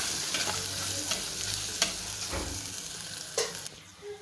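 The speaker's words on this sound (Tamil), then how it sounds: "இஞ்சி பூண்டு பேஸ்ட்டை சேர்த்துட்டு அதோடய பச்சை வாசனை போகிற வரைக்கும் நல்லா அப்படியே கலந்து விட்டுக்கோங்க" Ginger garlic paste sautéing in hot oil for a soy chunk (meal maker) dish, with a steady close sizzle and repeated scraping stirs of a spoon against the pan, no voices.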